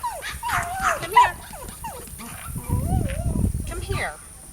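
Several pet dogs, among them Laser, Ellie and Chloe, yip and whimper excitedly in a rising and falling whine, with a short bark and panting, while a person talks over them close by.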